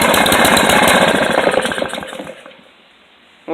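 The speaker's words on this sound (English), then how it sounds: "It's an engine. That's what engines do." A lawn mower engine meant for a go kart runs loudly and close with a rough, rapid chugging, then dies away into near silence before a sharp noise at the end.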